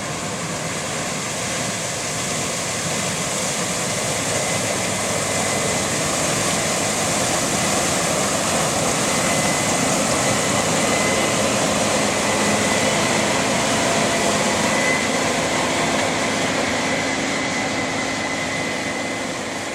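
A pair of Case IH 8120 Axial-Flow combine harvesters harvesting corn, engines droning loudly and steadily, a constant mechanical roar with no pauses or voices.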